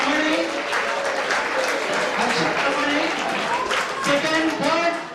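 Audience applause fills a hall at an inter-collegiate English proficiency contest, steady and dense clapping greeting a participant, with crowd voices mixed in throughout.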